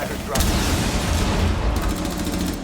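Gunfire and explosive bursts in a Rainbow Six Siege esports playoff match, loud and dense, with heavy booms and rattling shots under continuous caster-style talk throughout.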